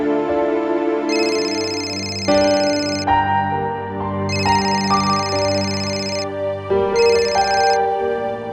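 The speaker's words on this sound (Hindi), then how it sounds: "नताशा अपना फोन क्यों नहीं उठा रही?" A phone rings on and off without being answered, a repeating electronic ringtone melody sounding in bursts over a steady musical bed, fairly loud and close, with no one talking.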